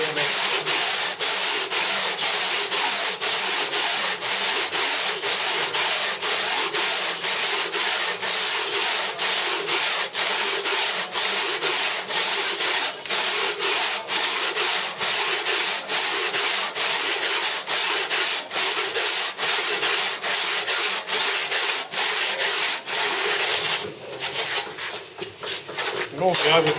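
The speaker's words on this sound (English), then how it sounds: "Need to saw from each side." A hand saw cuts through a block of stone in a mason's work, a loud, continuous rhythm of rasping strokes repeating steadily for over twenty seconds, thinning into scattered scrapes near the end.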